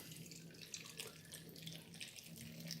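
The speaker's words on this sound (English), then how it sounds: "Then I'll fill that jar with water." Water runs steadily from a tap, splashing continuously into a jar, fairly faint and even throughout.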